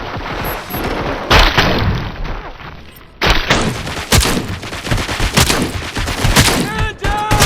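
Heavy gunfire in the video game RoboCop: Rogue City: loud, dense volleys of automatic shots and booming blasts that keep coming in bursts, with a brief lull partway through.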